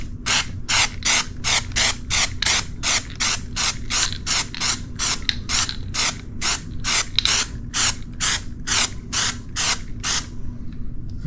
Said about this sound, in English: I'm gonna just hit it with some spot primer, some KILZ Original in a spray can